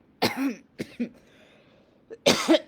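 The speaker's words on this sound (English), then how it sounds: "And look, I'm still coughing." Several harsh coughs in short bursts, triggered by lingering burnt-sage smoke, a cluster at the start and another near the end, close and otherwise quiet between them.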